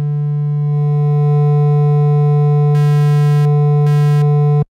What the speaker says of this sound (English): It has two types of distortion.